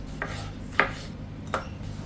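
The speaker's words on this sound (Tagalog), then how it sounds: "isang pirasong kamatis, hiwain lang natin siya ng cubes" A knife cuts a single tomato into cubes on a board while preparing shrimp ampalaya with egg, giving three distinct knocks spaced well apart over a low steady background, with no talking.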